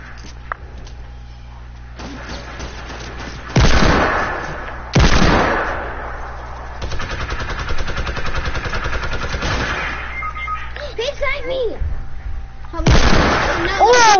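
Sniper and other gunfire in a 50 vs 50 online shooter match, loud sharp bursts and cracks recurring over a steady game soundscape, with a player talking in between.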